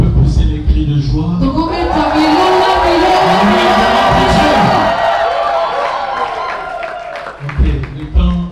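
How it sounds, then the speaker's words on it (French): A wedding crowd in a church service shouts and cheers with cries of joy, a loud, dense mass of voices sustained for about seven seconds before easing off into quieter murmuring. "Est-ce qu'on peut pousser les cris de joie?"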